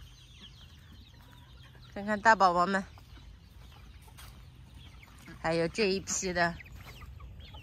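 Chickens in a backyard coop cluck softly in the background while a person talks in two short bursts over them.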